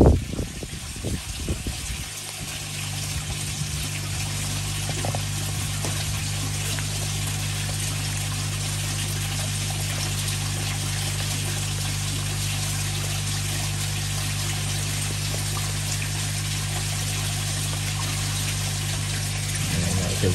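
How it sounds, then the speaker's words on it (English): Water pouring continuously into an outdoor koi pond, a steady loud gushing rush with a low pump hum beneath, unbroken for the whole stretch after a brief splashy start. "all of a sudden the 2 tonne of water starts pouring on their head"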